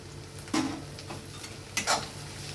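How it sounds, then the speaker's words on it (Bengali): Ginger, garlic and green chili frying in a pan with onion, a steady soft sizzle broken by two brief bursts of stirring and clatter against the pan, close by, with no talk. "এবার আমি এতে দিয়ে দিচ্ছি আদা রসুন আর কাঁচা লঙ্কাটা।"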